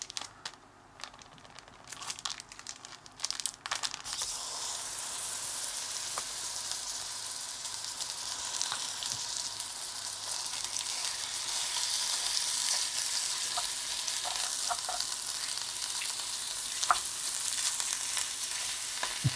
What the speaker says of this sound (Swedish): ska fräsa på 500 gram nötfärs